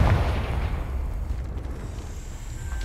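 A Confringo fire spell explosion in Hogwarts Legacy, a loud booming burst at the start with a heavy low rumble that slowly fades over a few seconds.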